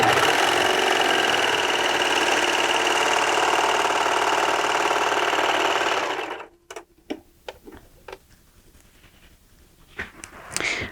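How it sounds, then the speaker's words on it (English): A Baby Lock Victory serger stitches a 4-thread overlock seam, its fast, steady mechanical whir running loud and continuous for about six seconds, then stopping and leaving a few light clicks and handling sounds. "we've got a nice 4-thread overlock that's going to make sure that those seams don't continue to ravel"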